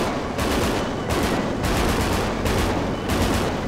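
Gunfire from the GTA 5 zombie survival game hits a car, a loud dense barrage of rapid shots in several bursts and dropping briefly between volleys.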